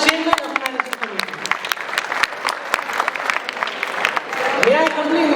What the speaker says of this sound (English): Can we have a huge round of applause for Muhammad Iqbal, chairman of Management Committee?